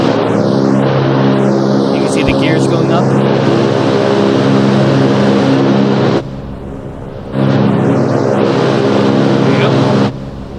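A loud, steady plane engine drones in an Arma Reforger mod, a constant roar that drops away briefly partway through before surging back, with a whooshing sweep overhead.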